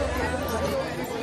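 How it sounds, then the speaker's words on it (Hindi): Dense chatter of a large crowd gathered at a ticket counter, overlapping voices forming a steady close babble with no single speaker standing out. "भीड़ बहुत है।"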